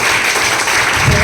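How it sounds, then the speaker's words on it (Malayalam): A meeting-hall audience applauds, a dense steady patter of many hands clapping at close range, continuous and fairly loud throughout. "അവർക്ക് നിങ്ങൾക്ക് നല്ലൊരു കയ്യടി കൊടുക്കാമെന്നാണ്"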